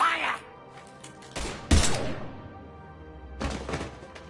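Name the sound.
gunfire in the video game Mass Effect 3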